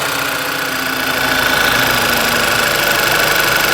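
A 2011 VW Tiguan engine, previously running rough with a P0300 misfire, now idles smoothly, a steady continuous hum heard up close under the hood with no talk.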